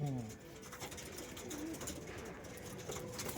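Madras pigeons coo at a breeder's home loft, a soft repeated low cooing mixed with faint bird calls against steady background noise, with people talking nearby.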